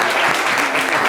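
A short burst of studio audience applause for a singer on a live radio-television show, dense clapping heard up close and fairly loud for about a second.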